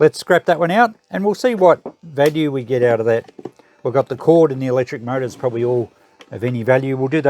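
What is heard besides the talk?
None of the usual background noises is heard.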